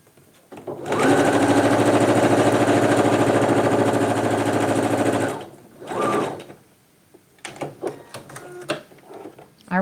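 A sewing machine stitches darts on Ditto Avril pant fabric in one loud, steady run lasting several seconds, then stops, followed by brief clicks and handling noises nearby.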